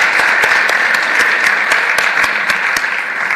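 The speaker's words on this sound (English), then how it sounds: "Can I get a round of applause for the panel" Loud, close applause for a panel at a trade and investment forum, dense steady clapping with a few sharp individual claps standing out throughout.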